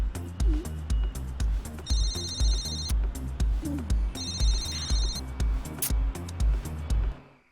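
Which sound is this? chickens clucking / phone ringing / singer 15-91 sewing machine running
phone ringing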